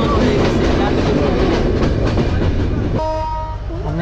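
The Benapole Express rumbles loudly along the rails with a dense, rattling roar, then its horn sounds in a sustained blare near the end as the carriage noise drops.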